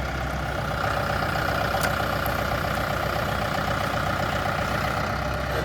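A small but sturdy red farm tractor rumbles steadily while pulling a fence post from the ground, its engine droning loud and unbroken throughout.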